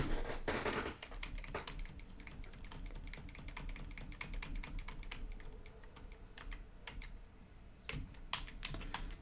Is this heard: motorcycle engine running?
no